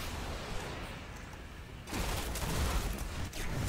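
Video game gunfire as a dense, noisy rattle of rapid shots, loud and continuous, swelling stronger in the second half, with no clear talking.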